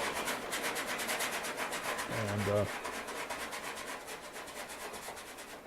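A bristly paintbrush scratches across tightly stretched canvas while painting a blues cycle, a close, steady rhythmic rasping that runs throughout, with a brief voice in the middle.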